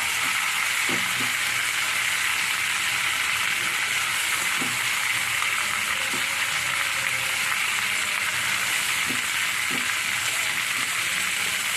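Neem leaves sizzle and fry in a hot pan while a spoon stirs them, giving a steady close crackle and hiss with a few faint scraping knocks and no voices.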